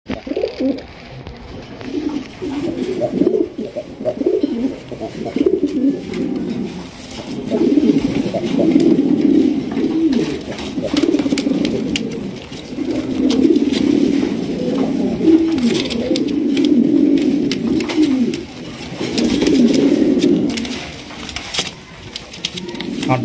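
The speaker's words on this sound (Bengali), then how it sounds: "দেখেন এখানে রয়েছে একজন রাজশাহী গিরিবাজ কবুতর" Rajshahi Giribaz high-flying pigeons coo in repeated low, rolling bursts, fairly close, with background shuffling and chatter present throughout.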